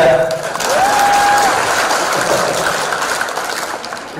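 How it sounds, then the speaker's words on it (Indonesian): Clapping from a crowd at an event hosted by a former minister, a loud broad rush that swells early and slowly fades over about four seconds, with a brief whistle-like tone near the start. "Tepuk tangan buat saya."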